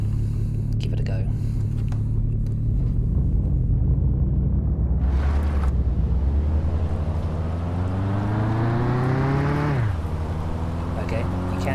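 A car in Mon Bazou crawling slowly on completely flat tyres: a steady low engine drone whose pitch rises gradually then drops off, with a brief whoosh midway and a voice talking faintly over it.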